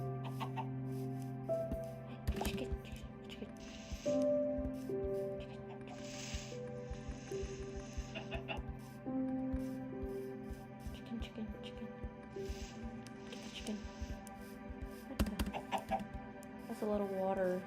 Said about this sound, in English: Oh, is that a chicken?